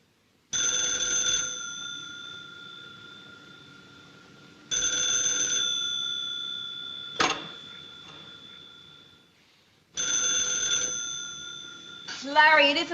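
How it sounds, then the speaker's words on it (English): An old-fashioned telephone bell rings in three long bursts with pauses between, loud and close in a quiet room, with a short clunk in between and a brief voice at the end. "it isn't the clock, it's the phone."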